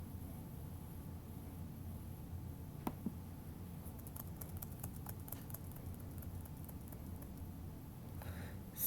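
Soft clicking keystrokes on a computer keyboard while numbers are entered for a math problem, a sparse then quicker patter of faint taps over a quiet room hiss.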